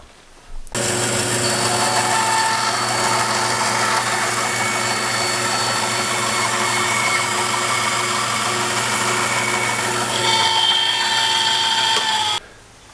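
A power saw cuts a tenon for a mortise and tenon corner brace, a loud, steady high-pitched whine that runs continuously for about twelve seconds, with a shift in tone near the end before it stops abruptly.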